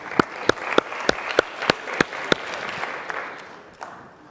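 An audience at a business networking event claps in a sparse, uneven burst, with a dozen or so sharp individual claps standing out before the sound trails off.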